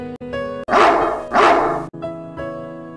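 A cartoon dog gives two loud, close barks over a tonal musical background, each bark broad and sharp, with brief quieter yips around them.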